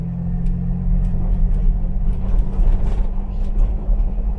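A Jeep TJ with a rebuilt NSG370 manual transmission drives along, its engine and drivetrain making a loud, steady low rumble heard close from inside the cab.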